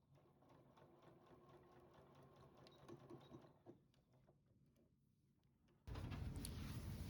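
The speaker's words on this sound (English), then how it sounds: "I basically just sew back and forth a few times to make sure that I will have enough fabric that is not going to come apart" A sewing machine stitches back and forth on shorts fabric with a fast, steady mechanical whir up close, pausing briefly before a louder burst of running at the end.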